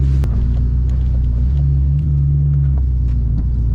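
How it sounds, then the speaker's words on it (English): Two Mustangs, a 3-valve and a 5.0 Coyote, rumble and rev with a deep steady engine drone in a rainy storm, close and loud with a brief throttle swell midway, no voices. "Two Mustangs going to race in the middle of a rainy storm."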